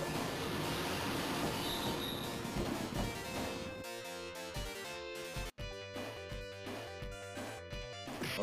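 Train rolling along tracks in the Final Fight arcade game, a steady rumbling ride that gives way to rhythmic clattering wheel beats and tonal mechanical hum, loud throughout.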